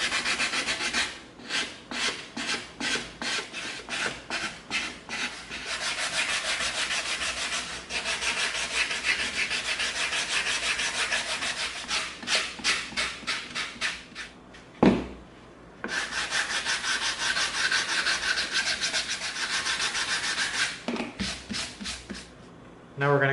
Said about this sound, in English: Now we're going to come in with our 80 grit sanding stick.